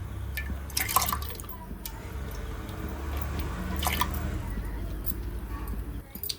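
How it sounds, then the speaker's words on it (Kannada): Wet, pouring splash of grains sliding into water, with a few sharp drips and clinks near the start, continuing under a low steady hum. "ಆವಾಗಲೇ ತೊಗರಿಬೇಳೆ ತೊಳ್ಕೊಬಂದಿದ್ದೀನಲ್ಲ, ಅದನ್ನು ಹಾಕ್ತಾಯಿದ್ದೀನಿ"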